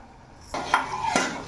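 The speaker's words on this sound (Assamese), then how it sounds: "এতিয়া মিলাই পেলানি অলপ ঢাকি দিম।" A spoon clatters against a pot as chicken is stirred, then a lid goes on, giving a few sharp metallic clinks and knocks over a low background with no talking.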